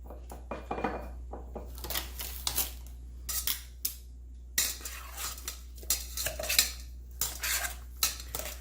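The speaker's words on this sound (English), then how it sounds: "And stir that up." Balsamic vinegar being stirred into zucchini in a bowl gives a series of clinks and scrapes from utensil against the bowl, irregular and close, with no talking.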